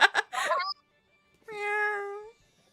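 A cat meows once, a clear drawn-out call close by, following a brief burst of a different vocal sound and separated by near silence.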